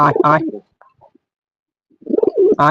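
Pigeons, including local desi birds and a young one, coo in short low bursts at the start and end while eating from an outstretched hand, with a quiet gap between.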